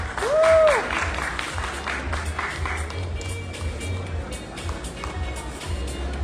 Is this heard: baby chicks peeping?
no